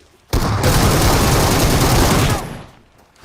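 Video game gunfire in a single dense burst of rapid shots lasting about two seconds, loud and close, then fading quickly.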